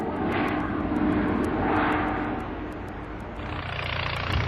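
A prop fan aircraft engine drones loudly and steadily, its broadband roar swelling and fading twice under a rapid rhythmic propeller beat, with no voices.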